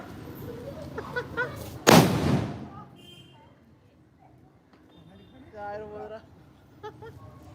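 A single sharp firecracker bang cracks out loudly amid people talking during Diwali celebrations, followed by quieter chatter and some background noises.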